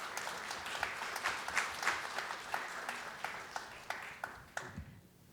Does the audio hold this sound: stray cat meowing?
no